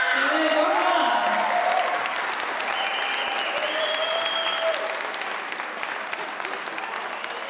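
A crowd at a team gymnastics competition applauds the winning boys' team, with loud, dense, steady clapping that carries on throughout and eases slightly toward the end.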